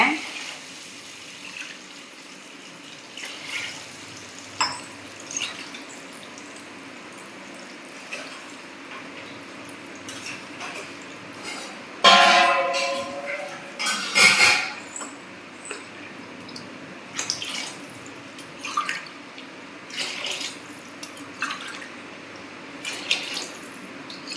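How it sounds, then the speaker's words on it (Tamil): Water pouring into a cooking pot in a home kitchen while making wheat rava kichidi, a soft steady splash with a louder burst midway, heard faintly under light kitchen noise. "இப்போ தண்ணி சேர்த்துக்கலாம்."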